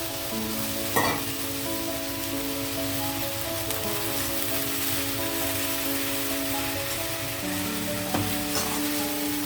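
Fenugreek leaves and moong dal being stirred together in a hot pan, a steady sizzle and frying crackle running throughout with occasional scraping stir strokes, close and continuous.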